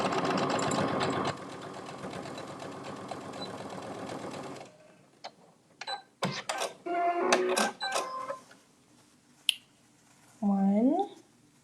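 A sewing machine runs steadily for several seconds while stitching a small zippered Bitsy Box, then stops; brief clicks, knocks and short bursts of stitching follow.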